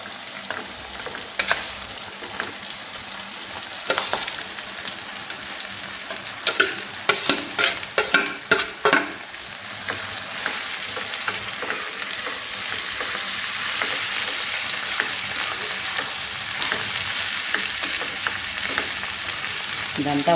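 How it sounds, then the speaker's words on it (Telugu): Cabbage pieces frying in a pan, with a steady close sizzle and a burst of sharp spatula scrapes and clacks as they are stirred, then settling into an even hiss. "ముక్కల్ని ఒక 5 నిమిషాల పాటు వేగనిద్దామండి."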